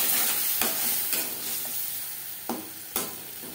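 Spice paste for a katla fish curry frying on low to medium flame with a little water, a steady close sizzle broken by several sharp scrapes of stirring in the pan.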